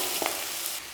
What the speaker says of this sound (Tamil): வெங்காயம் சேர்த்து நல்லா வதக்கிடுங்க